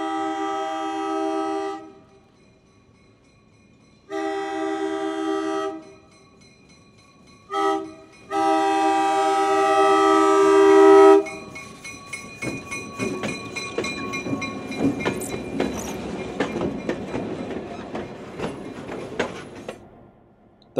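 Locomotive 2641 of the Santa Cruz Big Trees and Pacific Railway sounds its horn in several long blasts with pauses, then rail cars rumble and clatter past nearby in Santa Cruz's Potrero district, steady and loud.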